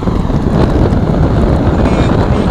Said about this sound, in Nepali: हावा स्पिड पनि अत्याधिक छ